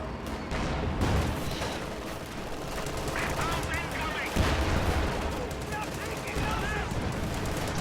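Bunker machine gun fire in a World War II real-time strategy match, rapid bursts of gunfire mixed with battle noise, heard under a commentator's continuous voice.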